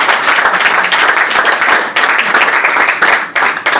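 A seminar audience claps hard and loud in a thick, continuous burst of applause, with brief dips in intensity before the clapping surges again.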